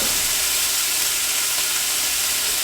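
Rabbit meat sizzles in a very hot iron skillet, a loud, steady, close frying hiss that holds evenly throughout with no voices.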